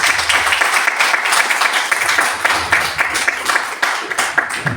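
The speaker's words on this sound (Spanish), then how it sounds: "Un fuerte aplauso para que empiece con su conferencia." A room of listeners claps before a lecture on the Olmec culture begins, loud, close applause with distinct individual claps audible in a lively, uneven rhythm.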